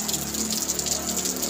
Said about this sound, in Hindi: बारिश स्टार्ट वापस हो चुकी है